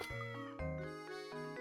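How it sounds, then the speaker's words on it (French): A short, tonal cat meow from the Professor Layton and the Curious Village video game, heard clearly and alone with layered, chime-like game tones lasting under two seconds. "Qu'est-ce que ce chat fait ici?"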